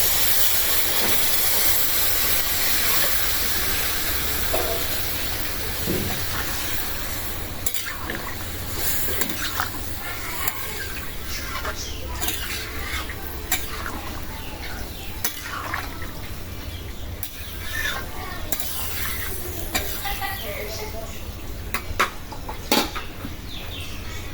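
Food sizzles and fries steadily in a hot pan in a home kitchen after being poured in, a dense continuous hiss with occasional stirring clatter and scrapes throughout, close and without talk.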